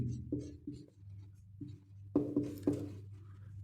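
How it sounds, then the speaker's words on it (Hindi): Pen writing a name on paper, a handful of short scratchy strokes in quick bursts, close and clear with no talk. "चंद्र, वो थोड़ा ढंग लिख लियो, भट्टारिका देवी।"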